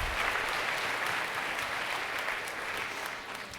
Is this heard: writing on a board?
no